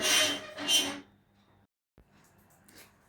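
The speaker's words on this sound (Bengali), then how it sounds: "হলুদের গুঁড়া দিয়ে আবার খানিকক্ষণ নাড়তে থাকব" A spoon stirs dried fish curry with turmeric powder in a pan, making two loud, close scraping strokes followed by quieter rubbing.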